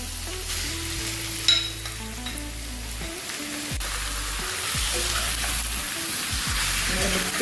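Marinated chicken for an Andhra-style chicken fry sizzles loudly in a hot pan, a steady close frying crackle with occasional clatter of stirring.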